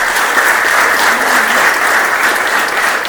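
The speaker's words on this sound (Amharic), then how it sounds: "ለራሳችሁ አንድ ጊዜ አጨብጭቡ።" An audience bursts into sustained applause at a gathering, a dense, steady wash of many hands clapping together for about three seconds with no pause.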